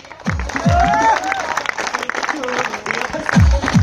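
An audience claps together at a recognition moment during a group trip to Panchmarhi, a loud steady round of applause with voices and sounds of the gathering mixed in, swelling again toward the end.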